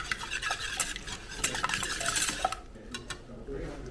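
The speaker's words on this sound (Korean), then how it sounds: "그리고 또 골고루 섞어줍니다." Carrot cake batter is stirred in a bowl, a quick run of soft clicking, scraping utensil strokes against the bowl, close and moderately quiet, thinning out toward the end.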